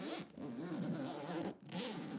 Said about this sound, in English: cool sound of the zipper.